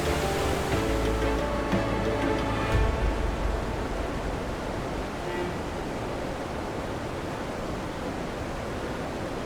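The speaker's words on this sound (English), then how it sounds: "Seeing these waterfalls up close, knowing they were just across the lagoon from where we were staying" Waterfalls across the lagoon at Canaima, Venezuela, giving a continuous broad roar of falling water that holds steady and fairly loud throughout, no voices.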